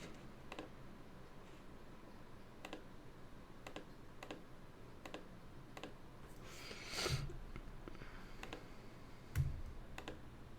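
Keys on a computer keyboard being typed at a relaxed, intermittent pace at a desk stream setup, with faint soft clicks spaced a second or so apart over a steady low background hum and a couple of brief louder bumps.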